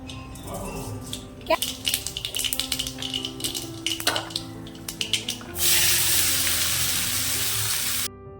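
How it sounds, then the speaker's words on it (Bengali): Ash gourd fried in oil with mustard seeds: scattered clatter and stirring first, then a loud, steady hiss of sizzling oil that holds for a few seconds and cuts off abruptly. "চাল কুমড়ো এখন আমি ভেজে নিচ্ছি তেলের উপরে দিয়েছিলাম একটু সর্ষে ফোড়ন"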